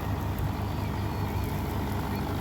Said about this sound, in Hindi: भाई साहब ट्रैक्टर चलेगा और अब सीधा भुस बनेगा